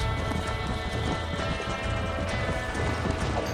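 A horse gallops in the Western video game Red Dead Redemption, its hoofbeats a steady, loud, continuous clatter over a dense bed of game music and ambience.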